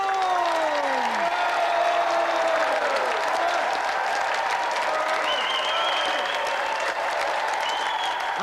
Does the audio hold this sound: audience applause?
yes